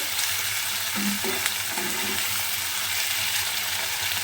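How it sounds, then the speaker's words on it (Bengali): Vegetables for begun bahar fry in a pan over a low gas flame, a constant close hiss and sizzle with a few stirring scrapes, no talking. "একটু হালকা আছে লাল লাল করে এগুলোকে সবগুলোকে ভাজবো।"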